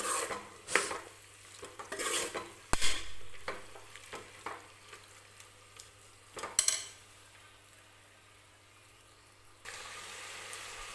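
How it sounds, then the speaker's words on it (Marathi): A spoon stirs mutton into masala in a pressure cooker, with intermittent metal scrapes and clanks against the pot and soft sizzling. The sounds come close, fairly quiet and in irregular bursts, then settle into a low hiss. "हे मटन आपल्याला मसाल्यामध्ये मिक्स करून घ्यायचं आहे"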